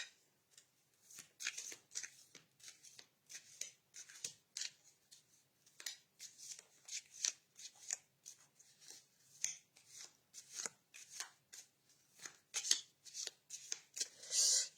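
Tarot cards being shuffled by hand, a long run of quick soft riffling and sliding bursts in an irregular rhythm, close and fairly quiet, with no talking.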